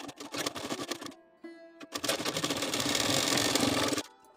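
Sewing machine stitching a blouse sleeve, bursts of rapid mechanical needle clatter close up, a short stop and pause, then a longer steady run before halting.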